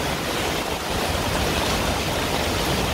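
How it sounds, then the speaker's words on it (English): Heavy rain pouring steadily onto and into a Zodiac inflatable boat aboard a sailboat in a wild storm, a loud continuous hiss of water with no talk. "I'm going to let the Zodiac fill up with water, fresh rain water"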